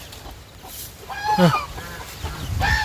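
Young roosters clucking and squawking at feeding time on a rural farm in the morning, a few short throaty calls close by, with a person murmuring briefly.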